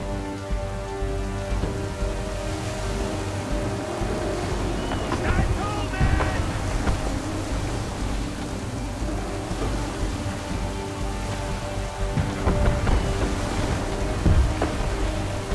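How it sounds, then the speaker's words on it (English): Strong gusting wind and rough sea waves sweep around a sailing ship in Assassin's Creed 3, a loud, continuous rushing roar with surging swells and splashes building toward the end. "Criminy, rogue wind, heavy gusts, Captain."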